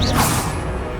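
Expelliarmus spell cast in a wizarding video game, a single quick whoosh with a crackling burst at the start that fades within a second.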